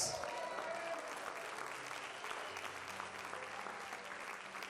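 Congregation applauding during a Spanish-language church sermon, a faint, distant wash of many hands clapping that holds steady for nearly five seconds.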